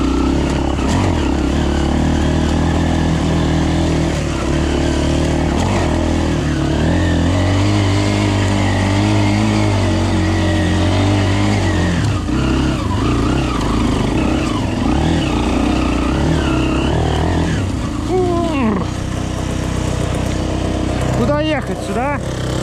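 A Minsk X250 motorcycle engine drones and revs continuously while being ridden off-road, loud and close throughout, with pitch shifts as the throttle changes and talking over it.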